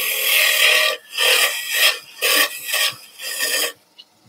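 Wood turning gouge cutting a sun hat box on a lathe, a loud rasping scrape repeated in about six rhythmic strokes with short gaps, then a faint tap at the end.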